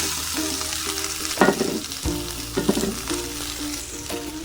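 Finely chopped potato sautés in a hot pan, a steady close sizzle with a few louder scraping stirs breaking through and a low hum running underneath.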